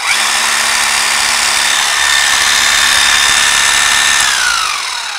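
A Bosch 11263EVS rotary hammer drill runs steadily and loudly with its soft start, a continuous high motor whine that holds for several seconds and then begins to wind down near the end, with no voices.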